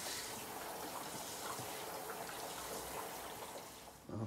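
Water runs steadily into a plastic barrel, a soft continuous rushing fill that stays fairly faint and even, with no one speaking.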